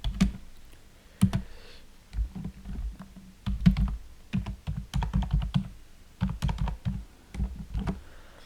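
Text is typed on a computer keyboard in Excel, with close, crisp key taps coming in uneven bursts and short pauses across several seconds, some keystrokes sharper and heavier, and no talking.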